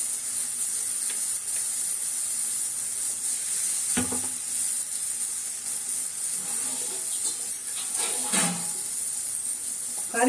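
A ground paste of coconut, poppy seeds and cashews sizzles loudly in a hot pan for a potato masala kuzhambu. The frying hiss is continuous and close, broken by a few scraping stirs of a spoon.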